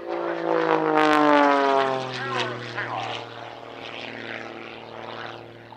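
A highly modified Pitts Special aerobatic biplane performs at an air show, its propeller engine letting out a loud, rising and falling drone whose pitch shifts sharply as it climbs and manoeuvres overhead.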